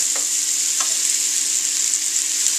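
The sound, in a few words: mushrooms sautéing in a pan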